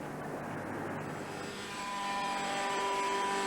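A high-pitched engine drones and whines, rising slightly in pitch and loudness, as a roughly 30-pound radio-controlled camera helicopter flies nearby, with no voices over it.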